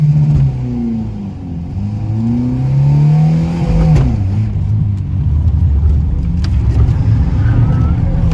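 A Ford Ka with the Endura 1.0 engine drives and revs, its steady engine drone rising and falling in pitch with occasional sharp pops and bangs, loud and close from inside the car.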